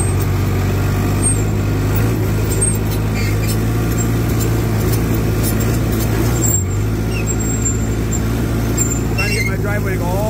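Bulldozer diesel engine running at a steady, loud low drone with a constant mechanical hum, close by, with a person talking over it.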